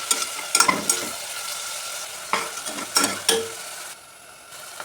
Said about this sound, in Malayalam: ഉള്ളി ഒന്ന് സോഫ്റ്റ് ആവാൻ നമുക്ക് കുറച്ച് ഉപ്പിട്ടിട്ട് ഇളക്കാം.